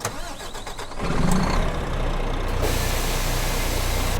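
An old Mercedes truck engine cranks and catches in Euro Truck Simulator 2, a short starter whir giving way to a steady, loud diesel idle rumble that holds to the end.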